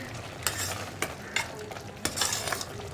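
A spoon stirs pineapple pieces in ghee in a hot pan, with soft sizzling underneath and several sharp scraping strokes against the pan, fairly quiet and close, no talking.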